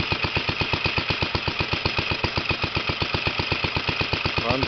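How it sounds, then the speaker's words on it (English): A small single-cylinder Briggs FHI engine on a 1930 Moto-Mower Jr, in original condition, idles steadily with a rapid, even chugging beat, close and continuous throughout. "Briggs FHI engine."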